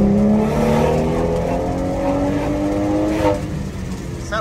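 A Harley-Davidson motorcycle engine, remapped and run on a dynamometer in a workshop, revs hard and climbs through rising tones, loud and close, then the pitch drops near the end.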